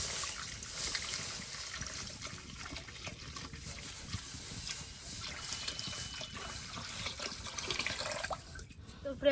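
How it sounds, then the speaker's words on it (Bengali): Milk pours into a hot wok, giving a faint, continuous trickling and hissing wash that runs steadily for about nine seconds, with soft voices in the background. "এখন দুধটা ডাইলা দিব।"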